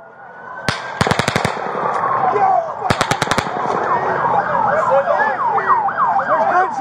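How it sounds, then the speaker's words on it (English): Two rapid bursts of gunfire crack out during a Las Vegas shootout, loud and close, over a wailing emergency siren and a busy outdoor crowd. "There's gunshots coming from over there!"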